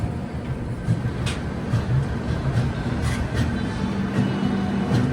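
The Taj Express overtakes at Agra railway station, heard as a continuous loud low rumble of passing rail cars with periodic wheel clacks and rattles.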